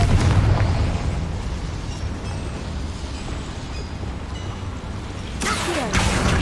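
A Confringo blasting spell explodes in the wizarding game Hogwarts Legacy, a rumbling burst that trails into a sustained low roar, with a second sharp crackling blast near the end.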